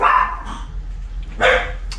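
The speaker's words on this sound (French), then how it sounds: "peut-être le chien d'à côté qui a aboyé un petit coup" A neighbour's dog gives two short, loud barks close by, the second a little higher and sharper, with a quiet pause between them.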